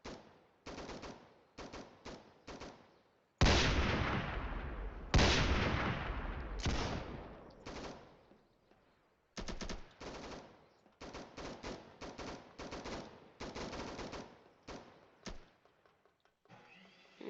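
Video game guns fire in a test: short rapid bursts of automatic fire, then two loud booming shots with long decaying echoes, then more clipped bursts in quick succession, with no talking.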